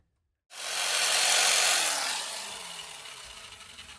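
A bass guitar body is filed and sanded by hand. After a brief silence comes one sustained, close rasping stroke that starts loud and gradually fades.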